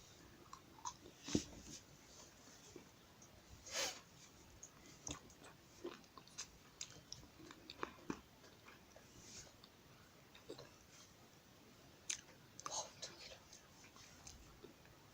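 Close-up ASMR eating of sweet meringue cookies, with scattered soft crunchy bites and quiet chewing at irregular intervals over a faint background, with no talking.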